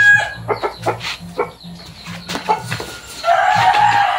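Fighting roosters cluck and crow repeatedly in a close, lively barnyard chorus, with a longer sustained crow rising near the end.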